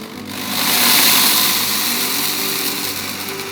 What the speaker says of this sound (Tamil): அதை சேர்த்து நம்ம அரைச்சி எடுத்துக்கலாம்.